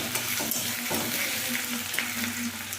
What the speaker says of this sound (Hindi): प्याज अच्छे से भून लेंगे, गोल्डन ब्राउन हो गए।